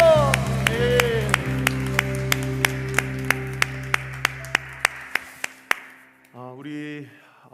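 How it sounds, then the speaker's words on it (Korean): During a Sunday church service, a congregation claps in unison in sharp, evenly spaced beats over sustained organ-like tones, then the clapping stops and a voice speaks at the end. "우리 주님께 영광과 감사의 박수 올려드리겠습니다"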